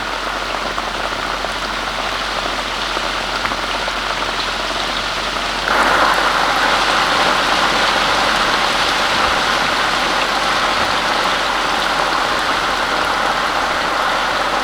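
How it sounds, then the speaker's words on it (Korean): A heavy downpour falls as a continuous dense hiss of rain, loud and even throughout and growing slightly stronger partway through, with no voices. "한바탕 장대비가 내리고"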